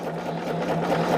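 A sewing machine stitches quilt pieces together in a steady, continuous whir that stays loud and close for the whole moment, with no one talking.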